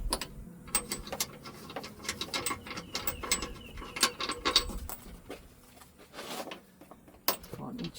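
Red nuts being unscrewed from a Neis wagon door, giving repeated ratcheting clicks and small metallic rattles in close, irregular bursts.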